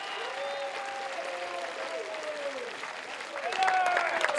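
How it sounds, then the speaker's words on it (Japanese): Baseball fans at a Chunichi Dragons farm-team season finale cheer and applaud from the stands, a broad crowd roar with clapping that swells louder near the end, while a voice and tonal sounds sit in the mix. "最終戦で見せたらしいプレーにファンからは大きな歓声が送られました。"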